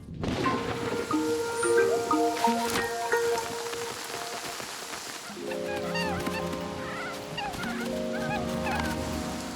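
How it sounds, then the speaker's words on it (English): Steady rain patters on a surface throughout, with geese or other fowl honking and calling over it in bursts. "It's pouring outside."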